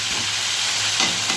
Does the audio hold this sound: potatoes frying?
yes